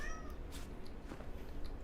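A cat meows once or twice close by in a room, a short clear call over steady background hum, with no talking.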